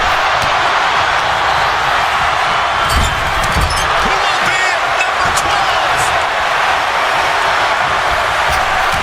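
Steady roar of a large arena crowd in the WWE 2K25 wrestling video game, loud and continuous throughout with swells of cheering and a few thuds of ring impacts beneath.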